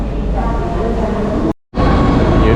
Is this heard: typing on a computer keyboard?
no